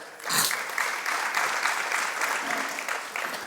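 Steady applause from an audience, many hands clapping continuously for a few seconds at moderate loudness.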